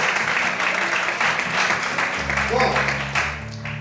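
A church congregation applauds in praise, a broad wash of clapping layered with a sustained organ or keyboard chord and some voices, holding steady before easing slightly near the end.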